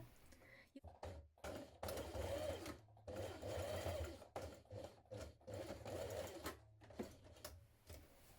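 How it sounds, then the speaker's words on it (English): A sewing machine stitches across a blouse placket in short stop-start runs, its close motor whir and needle clatter rising and falling in bursts, fairly quiet. "Now I'm going to stitch across here."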